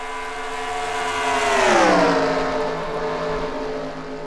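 Race cars in an IROC series race at Texas drag race down the backstretch, a loud engine drone swelling as they near and then sliding down in pitch as they sweep past, alone with no voices.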